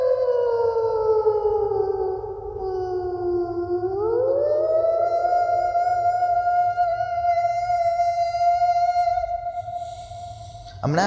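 A person vocally imitates a tornado siren with one long sustained wail that starts high, dips, then rises and holds a steady, loud tone with harmonics before breaking off at the end.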